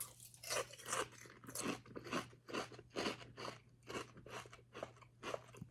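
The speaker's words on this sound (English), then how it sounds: "Dry crunch on this one." Dry Honey Bunches of Oats Sugar Cookie cereal crunched close up, with a regular run of about a dozen crisp bites and chews and no talking.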